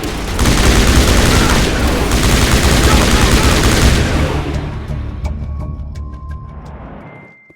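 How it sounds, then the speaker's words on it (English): Heavy gunfire in the Mass Effect video game, a loud dense barrage of bursts and shots that rolls on for several seconds, then thins into scattered distant pops and fades. "Open fire!"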